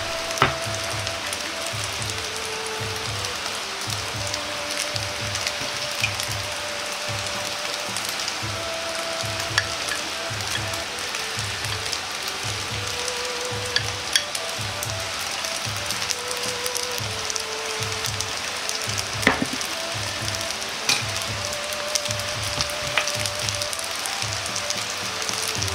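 Pork belly, lightly seasoned with salt and pepper, sears in a frying pan for restaurant-style yakisoba, giving a steady close sizzle with a soft repeating crackle and occasional sharper pops throughout.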